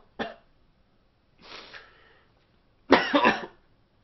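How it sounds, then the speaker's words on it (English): Three separate coughs from one person, a sharp short one, then a softer, breathier one, then a loud harsh double cough, each close and alone with quiet between. "How long have you had that cough?"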